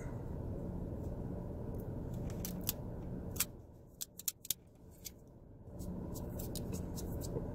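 A cigar cutter snips the cap of a NUB Connecticut cigar twice, a few sharp close clicks standing out from a steady room hiss.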